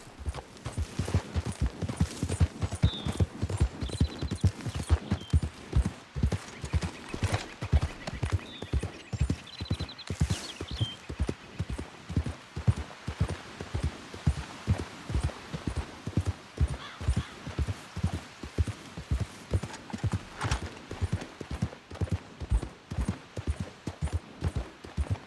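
Horse hooves clip-clop steadily and loudly at a brisk ridden gait, with a faint whinny partway through and no talking.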